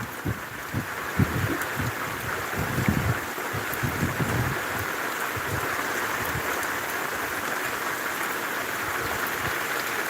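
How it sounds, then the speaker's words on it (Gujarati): Steady, dense rain hiss fills the air, with soft irregular low thumps of drops striking nearby surfaces; no one speaks. "હવે આ વરસાદ વધી પડ્યો છે"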